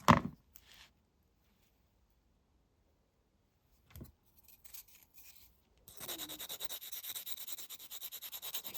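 Square jewellery wire gripped and twisted with pliers while making a pendant: a sharp scrape at the start, a brief gritty rub midway, then a longer, steady grinding twist at the end, all close and fairly quiet.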